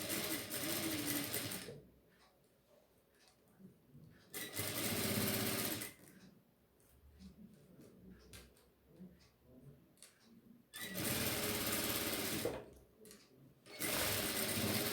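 A sewing machine stitches elastic onto a classic brief in several loud, rapid bursts separated by pauses, with quiet handling and soft speech in the gaps.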